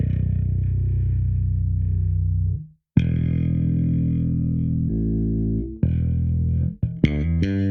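A 4-string bass played through a Darkglass Anagram effects unit set to sound like a 5-string, with loud, distorted, chorused sustained low notes, a brief gap, then more held notes and a quick run of higher plucked notes.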